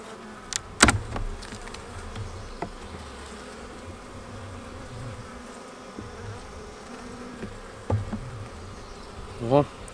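A steady low hum of a honeybee hive's roar fills the background, with a few louder knocks and bumps scattered throughout.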